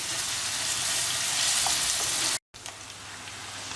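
Onions fry in a pan with a steady, close sizzle, cut off by a short silent gap before the crackling resumes a little quieter.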